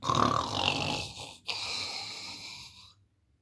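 A storyteller's voice imitates a giant snoring: one long, loud, rasping snore that dips briefly, swells again, then cuts off into silence.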